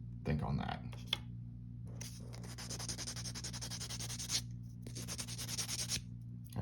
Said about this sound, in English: Should I sand the tread?